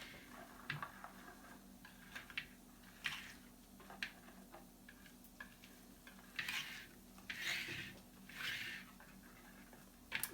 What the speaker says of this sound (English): Whisk that next.